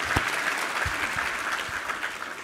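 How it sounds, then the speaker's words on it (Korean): A church congregation at a Sunday worship service applauds together, a steady, dense wash of clapping across the hall at moderate volume, without speech. "우리 하나님께 감사와 영광의 박수 올려드리겠습니다."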